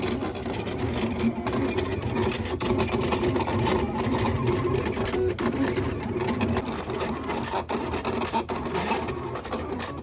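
A printer runs while printing parts in several different sizes, producing a continuous close mechanical buzz and whir with faint rhythmic ticks that hold steady for about ten seconds, with no talking.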